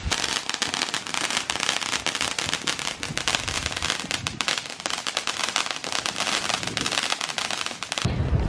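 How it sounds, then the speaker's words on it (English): Fireworks and firecrackers set off on a street at a Fourth of July party in America, a dense, continuous crackle of rapid pops and bangs filling nearly the whole stretch, loud and close, ending abruptly with a brief quieter tail. "People are setting off fireworks."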